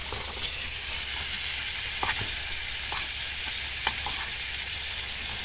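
Steak and fried rice sizzle steadily in a pan at a wilderness campsite near Alamere Falls, with a constant hiss broken by light scraping and stirring clicks.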